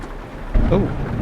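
A sudden close thunderclap breaks through steady rain in a thunderstorm in the Euro Truck Simulator 2 game. A loud low boom arrives about halfway through and rolls on.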